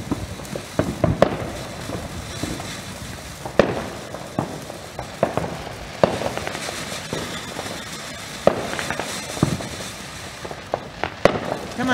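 A steady run of Independence Day firework explosions and firecracker pops, sharp and irregular, fairly close, with little talking.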